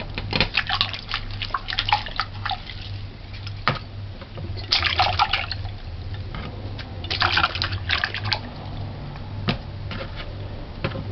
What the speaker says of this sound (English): Rinse off the thyme. Rinse the garlic.